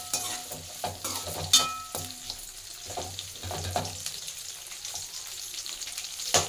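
Onions frying for paneer butter masala, with a soft sizzle under intermittent scraping and knocking of a stirring spoon against the pan, fairly quiet and close.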